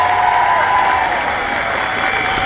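A crowd at a union rally against cuts to school support staff claps loudly and continuously. The applause is close and steady for the whole short stretch.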